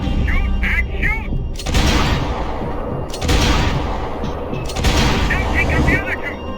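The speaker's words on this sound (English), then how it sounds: "Shoot, Max, shoot." Booming gunshots ring out in the video game Max Payne 3, loud bursts recurring in waves over dense game noise, with voices speaking in between.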